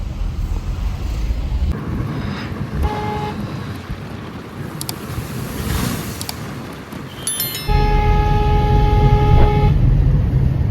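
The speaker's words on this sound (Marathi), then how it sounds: "जास्त हॉर्न फुकट घालू नको" A car horn honks in a slow road traffic jam, first in short toots and then as a long, loud, steady blast, over continuous engine and road rumble.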